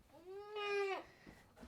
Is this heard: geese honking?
no